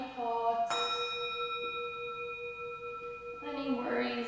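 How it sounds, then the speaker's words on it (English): A single meditation bell is struck once and rings out with a long, clear, slowly fading tone, then a second strike comes near the end, in a quiet room during a yoga session. "Letting the bell wash away"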